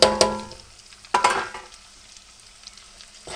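Chilli powder stirred into frying garlic, ginger and green chilli brings a few sharp scraping strokes of the spoon, each followed by a fading sizzle, close by and without speech.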